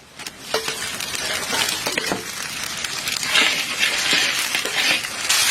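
Ginger paste drops into a sizzling katla fish curry with onions: a continuous loud frying hiss and crackle, close by, with a few soft wet thuds and scrapes as the paste goes in.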